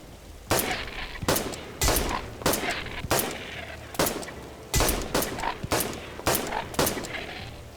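Gunfire in the zombie-survival video game The Last Stand: Aftermath, a string of about a dozen sharp, loud shots fired at irregular intervals, each followed by a short ringing tail, with no voices.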